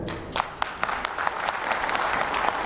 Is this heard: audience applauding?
yes